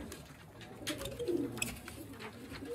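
Pigeons from a rooftop loft setup cooing softly, a few low throaty coos rising briefly in the middle amid faint wing flutters and background noise, quiet and with no voices.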